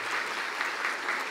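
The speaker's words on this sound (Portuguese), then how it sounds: "Vamos aplaudir." An audience applauds on a Brazilian television variety show set, a steady, dense wash of clapping from many hands filling the whole moment with no voices on top.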